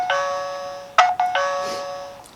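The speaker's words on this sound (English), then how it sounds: "So the doorbell itself has an audible chime" A smart doorbell's chime rings out clearly in two-tone ding-dong notes, then repeats, close and fairly loud with no talking.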